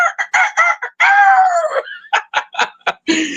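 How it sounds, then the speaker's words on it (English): A farm rooster crows loudly and close by in one long drawn-out call, with a burst of short clucks just before and after it. "Rooster is the first thing wake up everybody."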